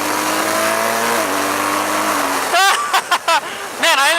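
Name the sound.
BMW R1200GS motorcycle engine revving while riding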